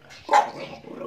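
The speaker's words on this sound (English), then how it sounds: "There's my chuchu. His name is Chihuahua Chuchu" A Chihuahua gives a single short, sharp bark, close and loud, with a slight trailing yip afterward and no talking.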